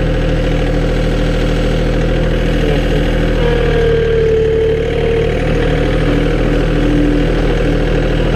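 John Deere 4105 compact utility tractor with a turbocharged engine, running steadily at a loud, close, even drone. Pitch dips slightly midway and no one speaks.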